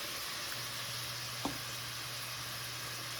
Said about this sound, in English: And let's just get that onion cooking